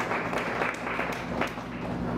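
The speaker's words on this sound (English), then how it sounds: "Let's give Him a clap of praise." Applause from a church congregation during a worship service, a steady dense wash of clapping filling the whole stretch at moderate level with no clear speech over it.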